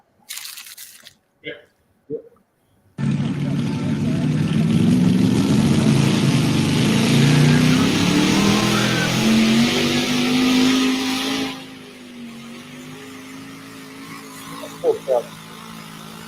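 Revving engine of a pulling truck fitted with a motor taken from a Florida cigar boat, a loud sustained roar building and rising for about nine seconds at a Turlock pull event, with brief talk before and after.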